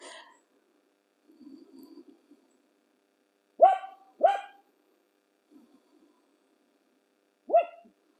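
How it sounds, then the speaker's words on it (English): A dog barking in the middle of the woods, a few loud sharp barks in a quiet outdoor setting: one at the start, a close pair about a third of the way in, and one more near the end, with soft rustling between. "I apologize for Kobe barking, but he is my ally, my protector."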